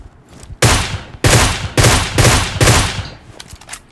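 Gunfire in PUBG Mobile, loud close bursts of automatic rifle fire, five sharp volleys in quick succession separated by brief pauses, with no talking over them.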